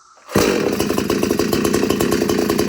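A Craftsman ST5200 chainsaw starts up abruptly after a brief quiet moment and runs at high revs while being tuned, a loud buzzing two-stroke whine with rapid pulsing, close up.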